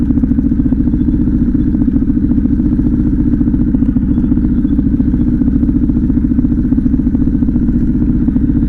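Harley-Davidson Pan America motorcycle engine running at a high idle with the clutch pulled in, a loud, close, steady mechanical clatter and thumping pulse that holds unchanged throughout.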